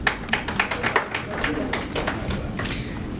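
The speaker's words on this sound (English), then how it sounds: "we're going to try and hold the applause till the very end" Scattered applause at a Kennewick city council meeting: quick, fairly close claps in a loose rhythm at first, thinning into a softer patter, with voices murmuring underneath.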